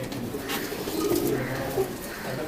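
Fancy pigeons cooing in a low, steady murmur at a loft in Karachi, Pakistan, with a few louder coos standing out against a continuous background hum.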